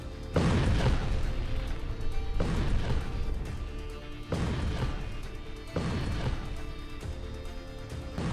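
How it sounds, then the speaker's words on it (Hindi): Turkish super bunker buster bomb detonating after piercing thick concrete, heard as a run of four heavy, loud blasts in close succession, each a deep roaring rumble that swells and carries on without pause between them. "तुर्की का यह super bunker buster bomb 7 metre की कंक्रीट को भेद कर आगे बढ़ता है और फिर धमाका करता है"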